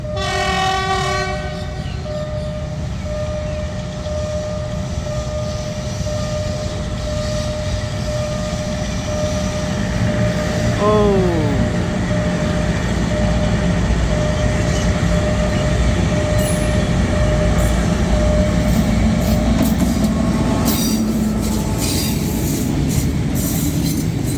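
A freight train rumbles steadily past with a long horn blast early on, metallic wheel squeals, and continuous heavy rolling noise throughout.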